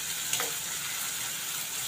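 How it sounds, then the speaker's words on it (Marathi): Chopped small onion frying in oil for a Konkani-style black chickpea masala, a steady soft sizzle with a brief stirring scrape near the start, continuous and moderately quiet with no talk. "कांदा चांगला मऊसर होईपर्यंत परतून घ्यायचा आहे तेलावर."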